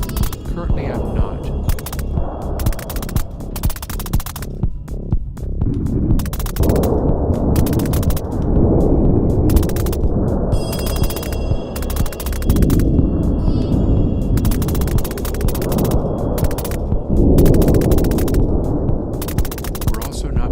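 A loud, dense rocket sound effect roars continuously with rumbling bursts and crackling thumps, played inside a reverb and mixing setup, filling the whole stretch without a break.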